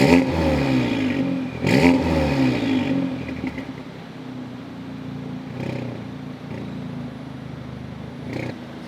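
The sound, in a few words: Audi S3 Stage 2 engine idling, raspy exhaust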